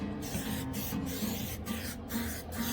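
Butter spray hissing from a can onto a whole chicken being prepped for smoking on a Pit Boss Tailgater pellet grill, a steady close spray with brief pauses between bursts.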